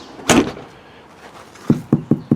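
Land Rover car door fitted with military door cards and soundproofing shut with one solid thud, then four quick dull knocks near the end, close and loud.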